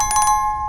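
A short, bright bell chime rings out three or four times in quick succession, with a sustained electronic tone beneath, all close and clean with no talk.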